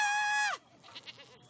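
A single loud, drawn-out goat bleat up close, breaking off abruptly, followed by faint scattered bleats in the background.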